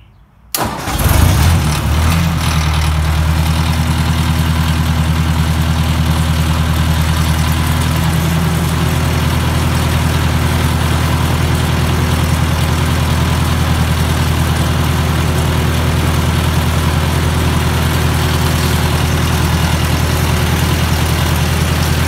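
A tractor engine catches after a brief crank and settles into a loud, steady idle that runs unbroken and close by for about twenty seconds, with no talking.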